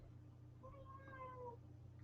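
A cat meows once, a single soft drawn-out cry heard faintly over steady low background hum.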